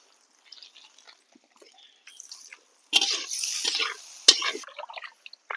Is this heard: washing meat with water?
yes